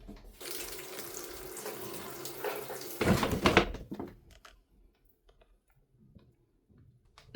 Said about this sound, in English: I'll scrub my slippers with laundry soap to get them clean and smelling fresh.